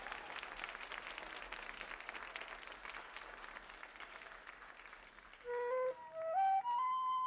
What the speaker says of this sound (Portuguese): Aplausos para o Plauto Cruz.